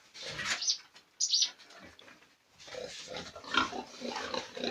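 Several meat-breed pigs grunt and squeal nearby in irregular bursts, some high-pitched squeals cutting through the lower snorting grunts.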